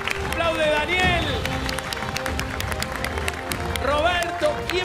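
A studio audience applauds on a TV quiz show, with sustained clapping and crowd noise under a host talking rapidly over it, swelling at the start and again near the end.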